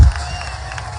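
Rally crowd cheering and applauding in a steady, dense roar, loudest at the very start and then holding at a sustained level with no clear single voices.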